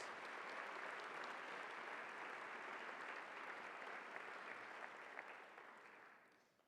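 Sustained applause fills a large university convocation gathering at Cal Poly, broad and steady for several seconds before tapering off toward the end.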